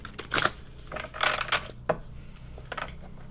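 Tarot cards being shuffled by hand at close range, with crisp riffles and soft slaps of the deck coming in short irregular bursts, and no talking over them.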